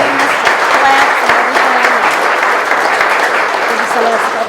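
An audience at an art event claps loudly and steadily in a dense, continuous round of applause that fills the whole stretch without pause.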